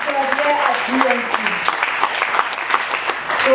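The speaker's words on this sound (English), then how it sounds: "Let's clap for Master Jesus. You can clap more than that for the glorious God Himself here at GNC." A church congregation claps for Jesus at a GNC deliverance service: dense, continuous applause fills the room at steady loudness, with a voice speaking over it and occasional raised calls.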